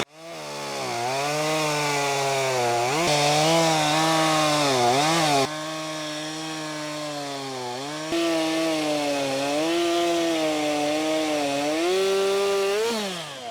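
A chainsaw slices into a wood log, its engine whining loud and close, the pitch dipping and rising as the chain bites in and cuts through in sustained passes.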